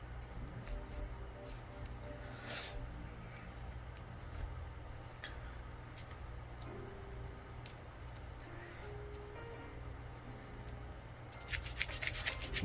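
Bark scraped off a branch with a blade to prepare an air layer for bonsai: a steady, quiet rasping and rubbing continues throughout, close up, with a few sharper scratchy strokes toward the end.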